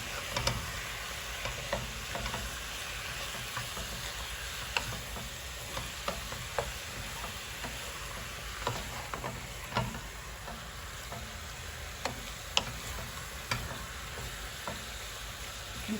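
Ground pork giniling sizzling steadily in a hot pan, with scattered clicks and scrapes as a spatula stirs the browning meat; continuous and fairly close with no talk.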